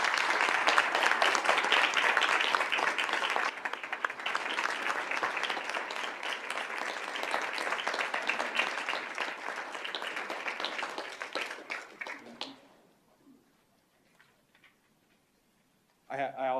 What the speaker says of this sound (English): please all give him a round of applause for this award.